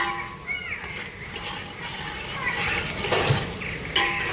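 Whole garam masala spices and black pepper are stirred into lightly pink onions frying in a pot, with metal utensils clinking and scraping against it and a voice talking throughout.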